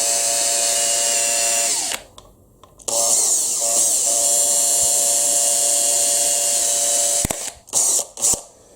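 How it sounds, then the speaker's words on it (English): A cordless drill with a 1/8 inch bit whines steadily while boring holes in a leather display base, stopping briefly and starting again, then ending in a few short bursts. "it's going to be a lot easier to drill those holes out larger because I've already drilled a smaller pilot hole"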